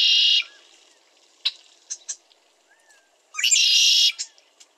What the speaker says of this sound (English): Here is the call of the male red-winged blackbird.